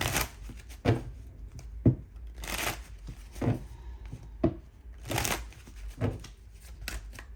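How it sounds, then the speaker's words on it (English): Tarot cards being shuffled in quick riffling bursts, about six distinct shuffles with short pauses between, close and fairly crisp, no talking. "we're going to go ahead and do a quick shuffle"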